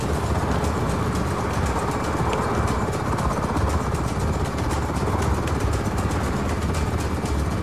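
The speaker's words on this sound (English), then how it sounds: "Be advised, target is a helicopter." A helicopter in the game Just Cause 4 gives a loud, continuous rotor and engine drone with a fast, steady chop, close and unbroken throughout, with no talk over it.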